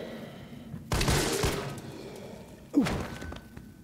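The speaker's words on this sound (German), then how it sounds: "Was denn das für ein Schuss?" Gunfire in the video game Resident Evil 3 Remake: two sharp, loud shots about two seconds apart, each with a booming tail that dies away.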